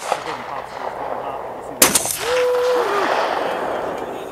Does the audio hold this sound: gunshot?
yes